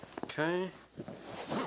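A zipper on a sofa back cushion cover stuffed with Poly-Fil is pulled in one quick rasping stroke, surrounded by brief rustling and a short spoken word.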